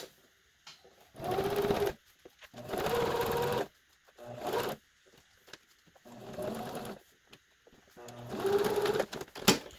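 Short bursts of a sewing machine top-stitching a fabric hospital mask, each run a few seconds of close mechanical whirring separated by quiet pauses.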